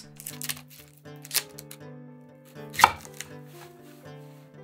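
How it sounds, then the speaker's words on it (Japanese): A knife chops the white part of Japanese green onions (negi) in a series of sharp, uneven taps, with one louder strike near the middle, over steady background music. "とりあえずネギ切ります。"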